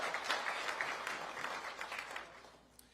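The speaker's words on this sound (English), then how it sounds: "I know you're going to cheer." Supporters of a club group applaud and cheer at an MLS announcement event in Nashville, a dense crowd of claps that fades toward the end.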